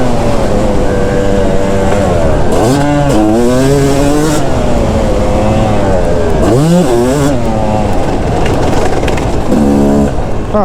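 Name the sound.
Yamaha YZ250 two-stroke dirt bike engine revving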